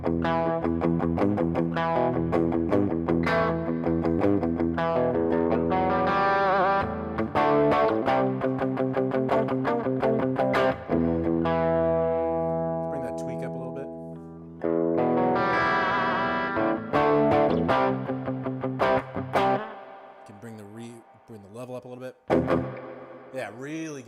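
Surf-style electric guitar played through a NUX Core pedal into a real spring-reverb amp, with twangy picked phrases, heavy reverb splash and some gain, played continuously and loud with brief pauses.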